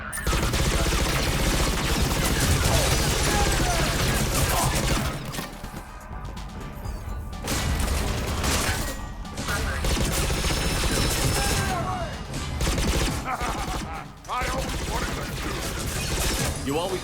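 Gunfire in a firefight in the video game Mass Effect 3, with dense, continuous bursts of shots and crashes that keep up for the whole stretch and make a loud, busy mix.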